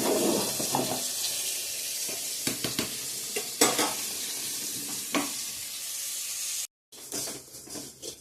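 Constant sizzle of pointed gourd frying in a hot pan, broken by sharp scrapes and clanks of a spatula stirring, with a short silence near the end.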